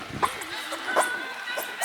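A person imitates a dog during a superhuman-style competition in Bolesławiec, giving short yapping, whimpering barks with a few quick yips amid background chatter.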